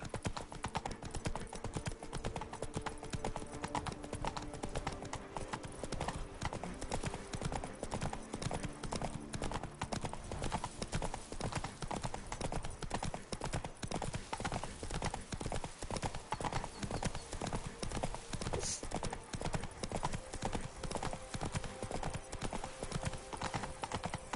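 Roach the horse trotting in The Witcher 3, a steady, continuous clip-clop of hooves on the ground that runs throughout, close and even in rhythm, with a faint voice now and then.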